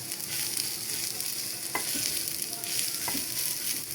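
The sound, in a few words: frying onion with dried shutki fish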